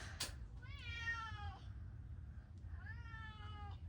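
Two long, drawn-out meows from a pet cat named Mr. Meeseeks, close by over a low steady hum, with a brief click just before the first.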